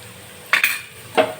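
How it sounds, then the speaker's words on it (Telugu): Ginger paste stirred in a cooking pot at home, with two short scraping clinks of a utensil against the pot over a quiet background. "అల్లం పేస్ట్ వేసి బాగా కలుపుకోవాలి"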